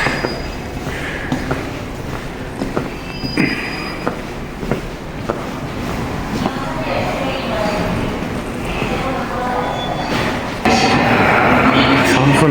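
Subway train pulling into Deokcheon station platform on a Busan metro transfer, a continuous rumbling roll with clacks and thumps, growing louder near the end, while someone talks over it.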